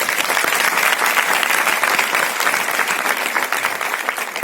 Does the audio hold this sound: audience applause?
yes